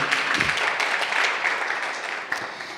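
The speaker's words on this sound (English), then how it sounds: "just one more round of applause to our panel" An audience at a festivals masterclass session claps for the panel in a brief, lively burst of applause, fairly close and full, fading slightly across under three seconds.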